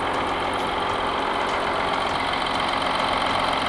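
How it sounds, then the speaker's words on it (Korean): A 2016-era Audi Q7 45 TDI quattro diesel SUV idles steadily with the hood open, a constant broadband engine rumble heard up close and alone, without pronounced variation. "엔진 소리 일정하네요."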